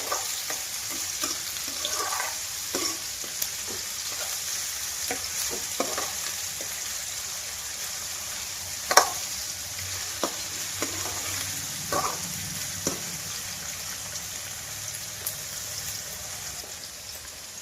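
Egg and amaranth leaf fry sizzles steadily in a pan while a spoon or spatula stirs it, giving scattered scraping clicks and taps over a constant hiss, with no talking.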